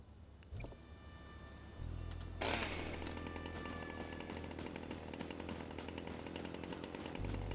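A chainsaw in the video game Once Human starts up and then runs with a steady, droning buzz, loud and close, with no speech over it.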